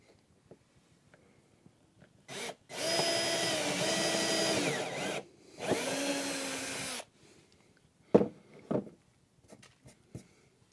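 A power drill pre-drills a hole in wood in two sustained whining bursts, the second shorter, followed by a few scattered clicks and knocks in a quiet room.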